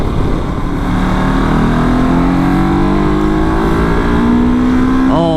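A twin-cylinder Royal Enfield Himalayan 400 motorcycle engine revving, a loud, steady close-up drone whose pitch climbs gradually throughout, ending with a sharp rise.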